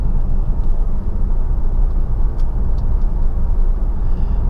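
Cabin of a 2017 Volvo V90 Cross Country on the move under adaptive cruise control, filled with a loud, steady low road and engine rumble and no talking.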